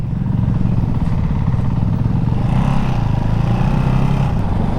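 A Ducati Hypermotard 698 Mono single-cylinder motorcycle engine thumps steadily and loud during a test ride, a throbbing rhythmic pulse with rising rev swells and wind noise.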